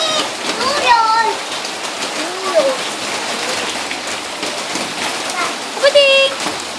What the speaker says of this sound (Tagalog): Hindi pwede magligo sa ulan.